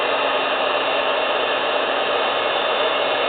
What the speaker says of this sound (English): the heat gun will heat up faster the next time around